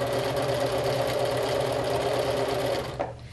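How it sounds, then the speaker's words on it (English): A sewing machine runs steadily as it stitches pieces of fabric laid together, a loud, even mechanical whir that holds for about three seconds and then slows to a stop. "I just lay my pieces together and sew"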